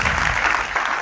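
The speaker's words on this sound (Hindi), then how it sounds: "आपकी तालियां जोरदार बजती रहनी चाहिए." An audience claps steadily at the inaugural session of a two-day school science conclave in Jind, the dense applause sustained and loud throughout the short stretch.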